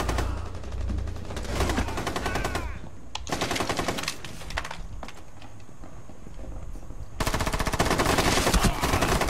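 Light machine gun fire in Rainbow Six Siege, sustained rapid bursts in two long stretches with a brief lull between, loud and dense over game ambience.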